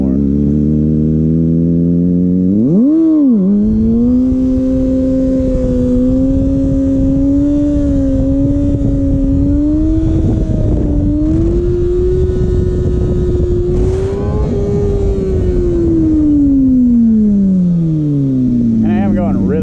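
Kawasaki ZX6R motorcycle ridden fast with freshly repaired fork seals, its engine loud and close, rising sharply at one point and then holding a high pitch for a long pull before winding down near the end.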